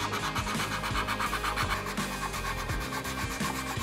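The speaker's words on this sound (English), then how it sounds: "then hand sand to break the edges of the curve" Hand sanding the curved edges of a wooden stool leg, with a steady, close rasping rub in rapid back-and-forth strokes throughout.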